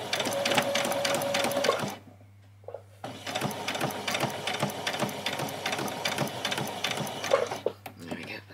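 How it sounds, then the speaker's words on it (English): Sewing machine running a row of gathering stitches on a doll's dress, close rhythmic chatter in two runs with a short pause between, a voice speaking over it. "we're going to run all the way down again on it and do a second row of gathering stitches right near the top"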